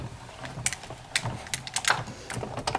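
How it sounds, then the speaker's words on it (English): A Big Shot die-cutting embossing machine is cranked by hand, giving a series of close, uneven ratcheting clicks and gear rattles as the plates roll through. "I'm just going to roll it on through like you would anything else that you put through your StazOn Big Shot machine."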